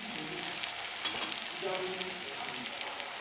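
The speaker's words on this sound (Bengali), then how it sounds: "মশলা ভাজা হচ্ছে। হ্যাঁ, ফ্রাই করছি।" Spices and tomato fry in oil in a pan with a dense, even sizzle and a few faint clinks of a spoon, heard close and continuous.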